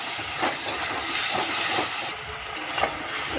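Chopped tomatoes sizzle in a hot pan, a loud steady hiss close by with faint clicks of stirring, the sizzle dropping slightly in intensity after a moment.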